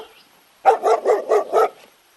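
A dog barks four times in a steady rhythm, close and loud, against an otherwise quiet background.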